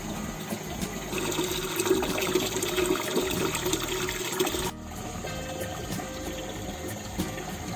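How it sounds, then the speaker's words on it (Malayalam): Water runs steadily into a homemade aquarium built from cement and old cloth, with a continuous gushing, filling rush. Partway through it shifts to a slightly quieter, steadier flow. "അങ്ങനെ നമ്മൾ അക്വാറിയത്തിൽ വെള്ളമൊക്കെ നിറഞ്ഞിട്ടുണ്ട്"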